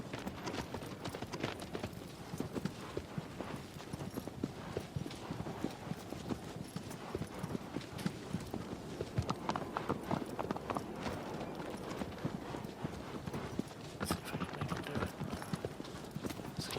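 Horse hooves clip-clopping at a steady riding pace in the PS4 game Shadow of the Colossus, continuous and fairly quiet, with rhythmic hoofbeats over a soft, wind-like ambient bed and no speech.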